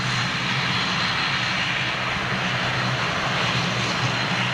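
Jet engines on an airliner roar as a steady, loud broadband rumble, with no break and no voices.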